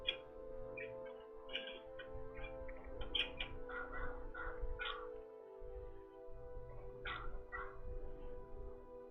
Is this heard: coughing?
no